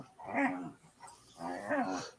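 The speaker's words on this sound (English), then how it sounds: "she's fighting with the other dog now" Two dogs fighting produce rumbling growls and snarls in two close bursts with a brief lull between, moderately loud and with no talking.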